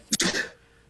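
One short, forceful sneeze with a quick double burst, close and loud, then quiet.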